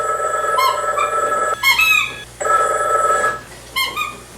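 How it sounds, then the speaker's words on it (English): A telephone rings in a movie soundtrack: loud, shrill electronic trilling in repeated bursts with short gaps, one ring cutting off and another starting, with no talk over it. "The awful phone stops ringing and another one starts."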